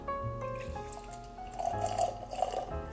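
Maker's Mark bourbon, a wood finishing series release, pours into a glass with soft liquid trickles and drips, quiet and close, swelling briefly midway before settling, with no talking over it.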